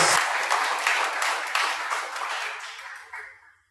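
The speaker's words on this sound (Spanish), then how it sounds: "Dale un fuerte aplauso al Rey." A church congregation bursts into broad, dense applause at a worship service in Spanish, loud and sustained at first, then thinning and fading out over a few seconds.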